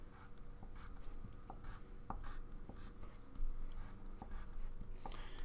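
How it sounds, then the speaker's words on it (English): Highlighter pencil scratching across paper in short, steady strokes and taps, close and fairly quiet, with no talking over it. "that's why I like to use these highlighter pencils."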